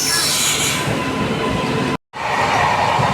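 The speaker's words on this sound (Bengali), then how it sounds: "এই যে পিছনে রাজধানী এক্সপ্রেস চলে এসছে, আমাদের ট্রেন চলে এসছে" The Rajdhani Express rolls along the tracks with a steady, loud rumble of wheels and carriages and some faint squealing. The noise drops out abruptly for a moment, then resumes.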